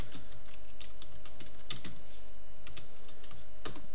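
Keys clatter on a computer keyboard as a folder name is typed, a steady close-up run of crisp clicks with a few louder keystrokes scattered through, no voices.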